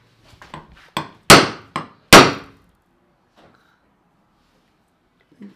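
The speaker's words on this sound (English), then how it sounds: "punch a little mark into there so it stays centered when you start drilling" Several sharp metallic taps of a hammer striking a center punch into metal, in a quick uneven series, loud and close, then silence with a faint voice murmur near the end.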